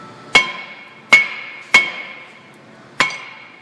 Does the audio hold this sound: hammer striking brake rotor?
yes